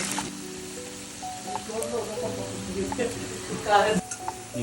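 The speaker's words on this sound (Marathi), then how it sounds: "कांदा चांगला तळून घेऊ आपण" Onions frying in hot oil for a crispy puffed-rice chivda snack, a steady close sizzle with stirring clatter, while a voice talks over it.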